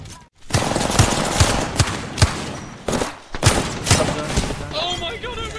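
Rapid automatic gunfire bursts in the video game Apex Legends, loud and close with sharp repeated shots and thumps, a voice talking over the shooting.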